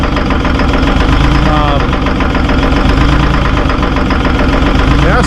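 Terex 72-31 loader diesel engine running after its first start in twenty years, a loud, close, steady knocking idle with rhythmic clatter throughout, and a voice briefly heard over it.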